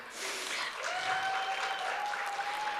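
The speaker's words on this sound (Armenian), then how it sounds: "Ծափահարություններով այո կողքեվորենք նրանց։" An audience at the Miss Armenia 2019 pageant final breaks into sustained applause, a dense, even wash of clapping that holds at steady volume throughout, with a faint thin tone running beneath it.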